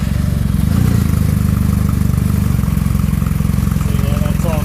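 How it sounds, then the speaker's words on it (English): A Kawasaki W800 motorcycle engine idles steadily and close by, with an even, throbbing low rumble that holds throughout. "I'll just start the bike quickly"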